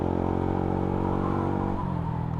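A Yamaha Sniper 155R motorcycle engine winds down with no throttle, a close, steady droning tone that drops slightly in pitch over a couple of seconds.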